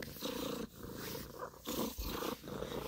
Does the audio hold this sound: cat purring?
yes